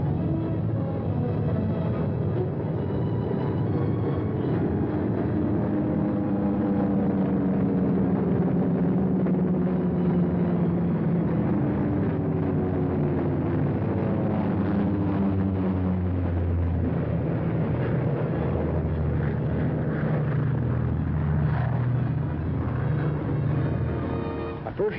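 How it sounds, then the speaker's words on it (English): Bomber aircraft returning and circling an airfield, their engines making a steady, droning rumble that swells and fades slightly as they pass, continuous and fairly loud. "The remainder circle the field, another coming to Earth each time around."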